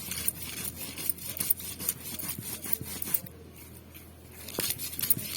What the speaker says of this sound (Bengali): এইভাবে সব দিয়ে সব বেটে নেবো